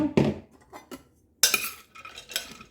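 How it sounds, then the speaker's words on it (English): Rinsed pasta is tipped into a bowl with pepperoni and ham for slow cooker pizza pasta, giving a few sharp clinks and scrapes of utensil against dish, some louder than others, with short quiet gaps. "we're going to add our rinsed off pasta into our bowl also."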